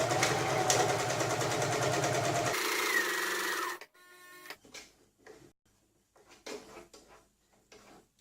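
Up close, a sewing machine runs a regular straight stitch on fabric, loud and steady for about four seconds, then stops, followed by faint clicks and handling noises.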